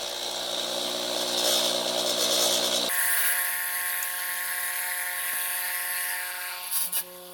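A DP Mini-Sonic MT-4 rock tumbler runs steadily at medium-high speed during its first grit stage, a constant loud mechanical whine and hum that shifts tone partway through, then continues evenly with a brief knock near the end.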